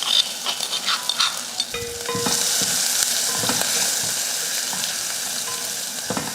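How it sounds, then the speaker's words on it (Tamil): Mustard seeds, curry leaves, asafoetida and turmeric hit hot oil for a radish sambar tempering. A loud, steady sizzle and crackle builds and holds, with a few stirring scrapes near the start and no voices. "எண்ணெய் காஞ்சதுமே கொஞ்சம் கடுகு பொரிஞ்சதுமே கருவேப்பிலை, கொஞ்சம் பெருங்காயத்தூள், மஞ்சள் தூள்"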